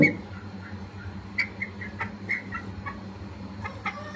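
Several two-month-old black Mongolian chickens cluck and chirp softly over a low steady hum, with brief sharp calls scattered throughout.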